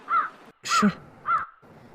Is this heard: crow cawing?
yes